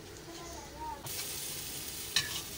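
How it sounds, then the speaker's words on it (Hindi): Beaten egg hits a hot pan over a paratha, bursting into a bright, steady sizzle that jumps up suddenly partway through and carries on loud and close, with a short clink near the end. "ये देखिए हमने जो अंडा तैयार कर रखा था, अब हम इसे इसके ऊपर डाल देते हैं इस तरह"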